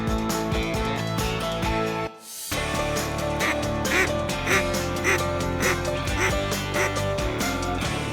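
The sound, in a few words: ducks quacking near hunting blind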